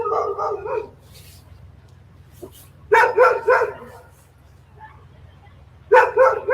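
Bursts of dog barking and yelping, several voices at once, after a shooting in Memphis' Orange Mound neighborhood, come in three loud clusters separated by quieter gaps over a low steady hum.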